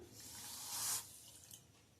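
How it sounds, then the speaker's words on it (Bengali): Water poured into a bowl of sugar to dissolve it for crispy khurma syrup: a short, quiet splashing pour lasting about a quarter second, then a faint drip against a hushed kitchen background. "গলা বাটি চিনির জন্য গলা বাটি জলই দেব। দিয়ে দিচ্ছি জল।"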